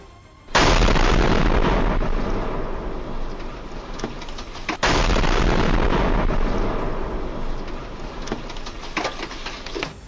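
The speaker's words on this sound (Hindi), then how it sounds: "एक रिहायशी इलाके में एक चौराहे के बिल्कुल नजदीक पलक झपकते ही ब्लास्ट हो गया" Two massive missile explosions in a residential area near an intersection, one at the start and another midway, each a sudden deafening boom followed by a long roaring rumble.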